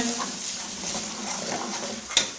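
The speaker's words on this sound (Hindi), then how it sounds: "ये इसमें डाल देंगे और इसके साथ ही इसको मिक्स कर देंगे।" Crushed green chilies are stirred into a cooking pot for a dhaba-style sarson ka saag, giving a steady soft scraping over a light sizzle, with one sharp utensil clack near the end.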